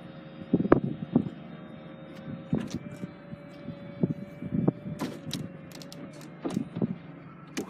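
The electric retractable hardtop of a black 2006 Mercedes SLK 200 convertible, fitted with an LPG system, operates with a soft motor whine beneath a series of mechanical clunks and clicks, fairly quiet and close.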